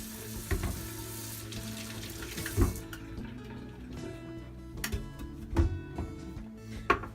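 A kitchen tap runs into a sink while a spoon is rinsed clean, making a close, hissing water stream broken by a few sharp clinks and splashes.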